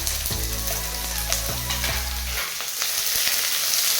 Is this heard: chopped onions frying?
yes